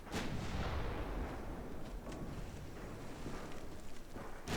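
Five-inch naval guns firing in the Ultimate Admiral Dreadnoughts warship game, a steady rumble of repeated distant booms with sharper reports at the start and end, no talk.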